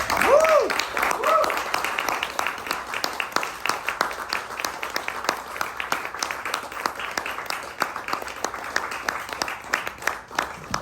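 Audience at a poetry reading applauding poets Skye and Alina, a dense patter of clapping from a modest crowd that gradually thins, with a voice speaking over it near the start.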